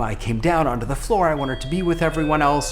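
An electronic doorbell at home sounds a thin, steady high tone that lingers faintly beneath a person talking continuously, partly masked by the voice.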